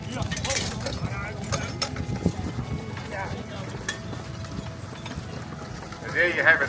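Hooves of mammoth donkeys clip-clop at a country festival in Barellan, a steady clatter of steps under an announcer's talk and crowd noise.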